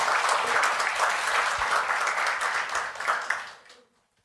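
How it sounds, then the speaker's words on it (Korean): A crowd at a Korean public forum opening applauds steadily with dense, sustained clapping for over three seconds before it quickly fades to silence. "큰 박수 부탁드립니다."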